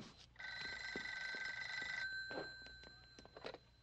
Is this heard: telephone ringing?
yes